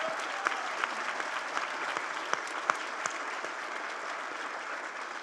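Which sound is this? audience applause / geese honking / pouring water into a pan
audience applause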